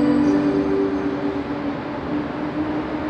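Polish EU07 electric locomotive pulling out of Kraków Główny station, a steady low rumble with a faint tonal whine, no voices.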